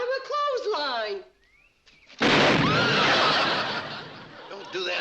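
An old cannon fires a single sudden test blast, loud and near, following a stretch of laughing voices and a brief quiet, with the roar trailing off slowly afterwards.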